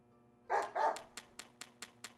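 A dog barks in the video game Deadly Premonition: two loud close barks, then a short series of softer evenly spaced yips or barks over faint game background.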